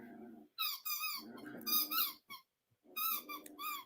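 A dog gives a series of high, wavering whines and squeaky yelps in short bursts with brief pauses between them, close by and fairly loud, with no other sound competing.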